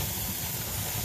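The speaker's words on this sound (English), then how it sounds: "the steam is coming out full speed" Steam vents at full force from a pressure canner holding chipotle chicken, a loud, continuous hiss with a low rumble underneath that stays steady and close throughout.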